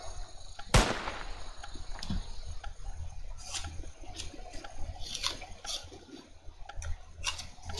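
A single sharp gunshot in the Roblox game Red Light Green Light, loud and sudden near the start, followed by faint scattered ticks and game noise.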